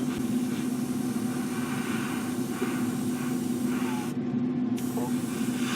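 An airbrush spraying paint onto a 1/32 scale Eduard BF-108 aircraft model gives a steady, close, continuous hiss with a low hum underneath, briefly easing near the end.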